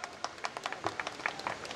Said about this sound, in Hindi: तो पूरा सदन ताली महोत्सव मनाइएगा